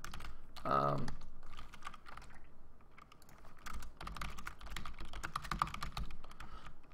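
Steady typing on a computer keyboard during game-development work in the Unity engine, a run of quick clicky keystrokes going on for several seconds, fairly close, with some speech mixed in.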